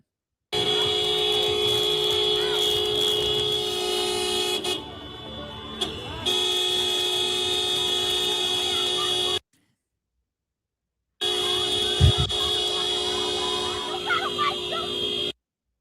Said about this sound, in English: Do you hear the people honking as they're doing the raid?